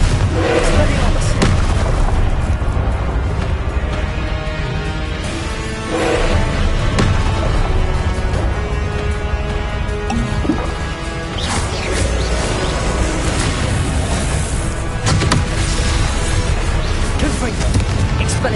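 Confringo explosive spell blasts from Hogwarts Legacy go off again and again in a loud, nonstop din of booms and crashes, with voices heard in the thick of the battle noise.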